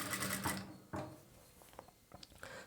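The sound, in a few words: sewing machine stitching a plain blouse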